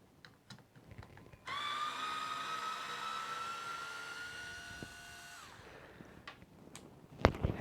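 A Black and Decker BDCSFL20C 4V cordless screwdriver whirs steadily for about four seconds, its motor droning and rising slightly in pitch as it backs out a screw, loud and close, with faint handling clicks before and after.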